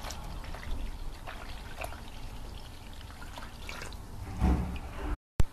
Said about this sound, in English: We'll pour in our curdled milk and stir to combine.